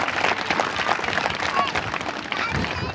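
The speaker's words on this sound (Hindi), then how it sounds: "एक बार शेर सिंह आचला दादा और उनकी टीम के लिए जोरदार ताली।" Audience applauding a team at a National Youth Day event held at a school, steady dense clapping throughout, loud and close, with no speech rising above it.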